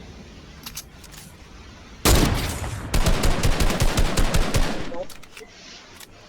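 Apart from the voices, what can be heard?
gunfire in a battle royale video game arena match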